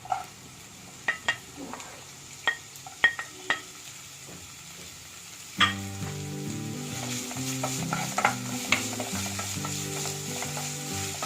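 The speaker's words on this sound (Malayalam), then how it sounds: "ഞാൻ ഇതിനകത്തേക്ക് ചെറിയ ഉള്ളി ഇട്ട് കൊടുക്കുന്നു" Small shallots dropped into a hot pan for Kerala-style chicken thoran: a few sharp clinks and scrapes, then a sudden burst of loud sizzling that continues steadily under ongoing stirring strokes.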